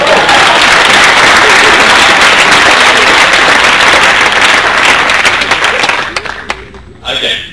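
An audience at a leadership training event in Atlanta bursts into loud, dense clapping that holds steady for several seconds, then thins to scattered claps as a voice starts up near the end.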